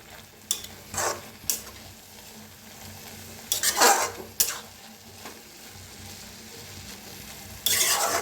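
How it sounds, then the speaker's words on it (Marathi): Fenugreek leaves and potatoes are stirred in a kadhai, with repeated scraping bursts of a spatula against the metal over a low sizzle, separated by quieter pauses. "आता छान मिक्स करूया"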